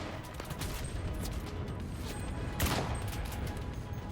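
Gunfire from an anti-tank gun in the World War II shooter video game Enlisted, heard as a dense, noisy battle wash with one sharper, louder blast roughly midway through.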